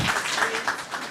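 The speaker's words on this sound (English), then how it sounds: "Please clap for that, for them." An audience at an HR business breakfast claps in a brief, dense burst of applause that fills the whole moment.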